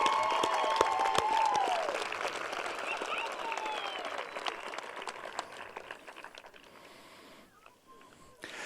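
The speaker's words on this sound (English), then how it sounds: "I think we all need to give them a round of applause, please." A high school graduation audience gives a round of applause for the seated staff, a broad spread of clapping that fades gradually toward the end, with brief voices and tones under it.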